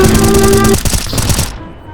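Loud rapid bursts of Counter-Strike (CS:GO) gunfire rattle for about a second and a half, then cut off abruptly into quieter trailing noise.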